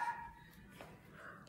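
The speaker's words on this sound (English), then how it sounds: "Sorry for the dogs barking in the background." Dogs bark faintly in the background: a brief muffled bark or two sounds distant and low under a quiet room tone.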